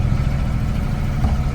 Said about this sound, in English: Unfortunately, we're back under engine because there's hardly any wind.